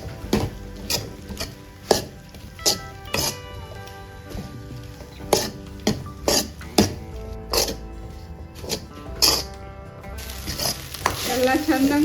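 Rice being stirred into masala in a hot pan for Singapore fried rice, with a steady sizzle under repeated sharp scraping and clanking of a spatula against the pan, loud and close, rising to a busier sizzle near the end.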